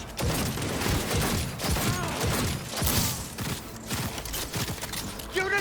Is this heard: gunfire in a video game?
yes